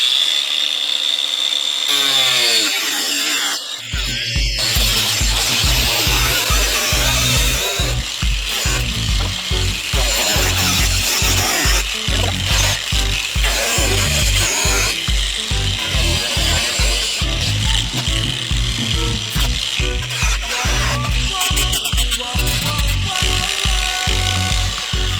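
A cordless power tool cuts a plastic bottom piece off an under tray in a repair job, running as a loud, continuous, buzzy cut for most of the clip after a few seconds of quieter lead-in, with no talking.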